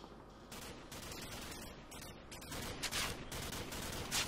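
Gunfire in Call of Duty 4 rattles through a dense run of shots and bursts, fairly loud and continuous with no talk over it.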